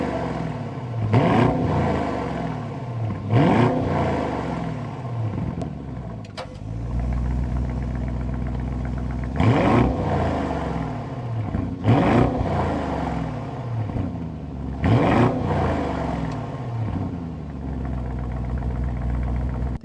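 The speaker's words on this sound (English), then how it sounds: "so you can hear that exhaust note." A 2026 Audi SQ7, rated at 500 hp, fires up and settles into a deep, steady idle, with several loud throttle blips swelling and fading in a regular rhythm over the low exhaust rumble.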